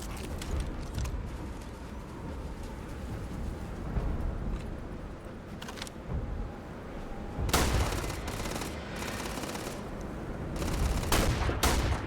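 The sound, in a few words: gunfire in the video game Starfield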